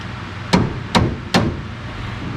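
A hammer tapping three times on the steering column of a 1973 square body truck, sharp metallic knocks about half a second apart, close and loud over a low background hum.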